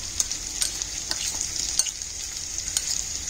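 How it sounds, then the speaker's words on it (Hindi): Fried mushrooms stirred into a chilli sauce for a restaurant-style dry chilli mushroom, with soft scraping clicks of a spoon at an irregular pace over a light, steady sizzle, close and fairly quiet, no voices. "अब इसको हम अच्छे से इस सॉस में मिक्स कर लेते हैं।"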